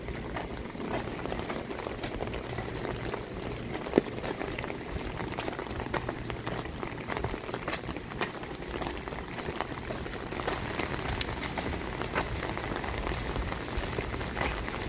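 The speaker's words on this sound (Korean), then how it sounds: "비가 오고 있습니다." Steady rain falling outside a library on a wet day, a dense continuous patter and hiss that holds at an even level for the full length, with no talk over it.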